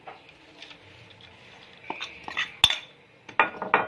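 Ingredients for stuffed cabbage filling being mixed together in a bowl, quiet at first, then scattered clinks and scrapes of a spoon against the dish, close and intermittent with no talking.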